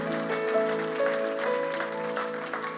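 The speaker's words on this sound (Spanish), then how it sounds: "Denle ese aplauso fuerte a Cristo." A church congregation applauds loudly for Christ, the clapping blended with sustained tonal music underneath throughout.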